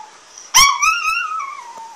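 A dog lets out a short, rising, wavering howl that slides into a drawn-out whimper, close and fairly loud, with a couple of faint clicks underneath.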